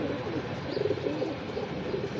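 Pigeons in a breeder's loft cooing, a low rolling murmur that carries on steadily at moderate volume, fairly close with no talk over it.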